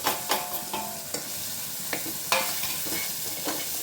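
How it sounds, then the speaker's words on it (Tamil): Tomato masala with chilli and pepper powder sautéing in a pan, a steady sizzle broken by sharp scraping strokes of a spoon every half second or so, close and moderately loud with no talking. "மிளகு பொடி எல்லாம் அதில் மிக்ஸ் பண்ணிவிட்டு இந்த மசாலையும் அதில் வதக்கி விட்டுலாம்"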